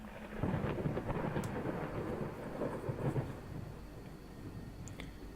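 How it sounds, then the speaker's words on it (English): Low rolling thunder rumbles steadily over a dense wash of heavy rain in the horror game Layers of Fear, fairly loud and without speech. "Reminds me of heavy rain."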